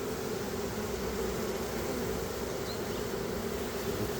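Honeybee swarm fanning at a wooden hive box holding empty frames, a steady, dense close-up buzz that holds evenly throughout with no talk.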